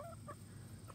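A chicken gives a few short clucks over steady low background rumble, fairly faint, with no talking.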